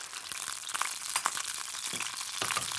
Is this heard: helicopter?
no